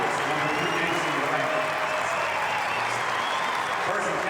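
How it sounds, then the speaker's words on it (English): A home crowd at a Rutgers Big Ten college wrestling match applauds and cheers steadily, a dense sustained roar of clapping with a commentator talking over it. "Nick Suriano brings the Rutgers crowd to their feet."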